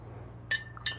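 A stir spoon clinks twice against glass during a pour-over coffee brew, two bright, sharp taps about a third of a second apart over a quiet background hum.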